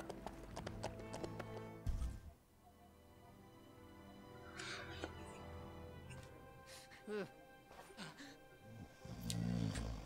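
Horse hooves clip-clopping during a ride in the LEGO Lord of the Rings video game, a steady trotting rhythm with an occasional neigh, mixed with game music, while people talk over it.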